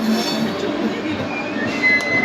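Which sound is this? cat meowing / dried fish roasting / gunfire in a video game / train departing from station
train departing from station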